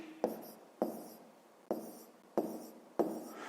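Pen strokes on paper while numbers are written out for a long division, sounding as five distinct taps and short scratches spaced about half a second to a second apart, close and quiet.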